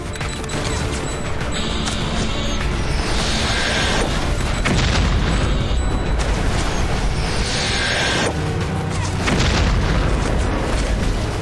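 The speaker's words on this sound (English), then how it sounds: "With just two Singularity Bombs, I can take out this entire boardwalk and cut off their lanes of pursuit" Singularity Bombs in Red Faction: Guerrilla tear apart a boardwalk, a loud sustained roar of deep booms, crumbling debris and rushing destruction that swells in waves and fills the whole stretch without pause.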